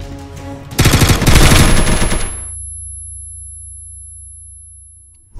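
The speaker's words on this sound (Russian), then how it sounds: "Они стреляют по кому-то, они стреляют" Gunfire in PUBG played inside Minecraft: a loud, rapid burst of automatic shots lasting about a second and a half, ending abruptly and followed by a low hum and a steady high tone.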